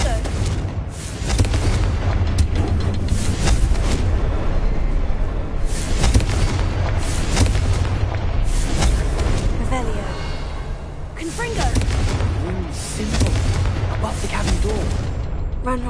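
Confringo spell explosions in the Hogwarts Legacy video game, a dense run of booming blasts and crackling bursts over a constant low rumble, loud and continuous with brief lulls.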